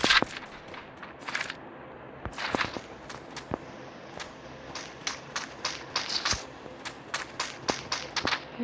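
Pump shotgun blasts in a video game, sharp cracks firing in irregular bursts, some tightly spaced and others rapid in a quick run near the end, fairly close and without talk.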